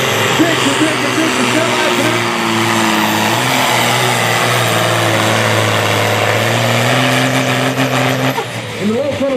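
A 4500 kg sport-class pulling tractor runs its engine loud and close at a tractor pulling event, a sustained heavy roar that shifts pitch near the end, with a commentator's voice over it.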